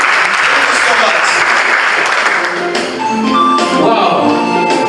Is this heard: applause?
yes